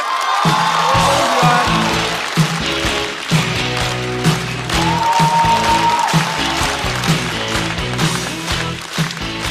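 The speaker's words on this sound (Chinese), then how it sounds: "现在对职场他仍然有话要说，掌声有请侯志远" An audience applauds and cheers steadily over loud, upbeat music.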